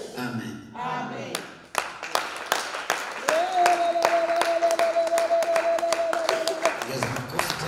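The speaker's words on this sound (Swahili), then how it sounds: "Jaza makofi tena." A congregation at a Swahili morning church service claps in rhythm, sharp claps building after a brief voice, with a sustained feedback-like tone ringing over the clapping; talk is heard at the start.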